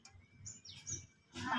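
Caged birds, a pair of females and a male kept for sale as hunting decoys, chirp in short high tweets close by, with a louder burst of chatter near the end.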